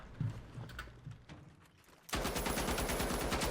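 An M60 machine gun fires in The Finals, starting abruptly after some scattered lighter clicks and clatter, then pouring out a loud, continuous rapid-fire stream that runs to the end.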